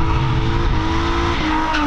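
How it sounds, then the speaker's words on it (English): Cars drifting on a Japanese-style drift track in the American desert, a loud close engine roar with revving and tire noise sweeping past continuously, no talking. "as I'm watching drivers go by"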